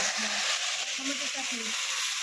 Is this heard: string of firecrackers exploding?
no